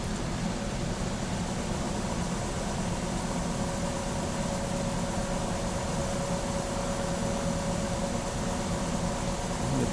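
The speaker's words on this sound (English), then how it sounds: "Speed the motor up." A brushless electric motor with Hall effect sensors spinning up on a test bench, giving a steady whirring hum with a faint rising tone throughout, no talk.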